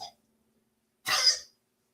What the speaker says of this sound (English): He took a big drink and now he's coughing.